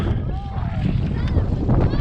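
Steady wind buffets the microphone outdoors on open water of Lake Opeongo, Algonquin Park, a constant rumbling roar with faint voices mixed in.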